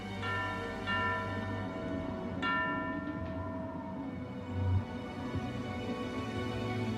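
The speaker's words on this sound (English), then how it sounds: "the ship's bells were rung every half an hour" A ship's bell struck in the Arctic winter gloom, a few clear metallic strikes ringing out with long sustained tones that fade slowly over a steady low background, with no talk.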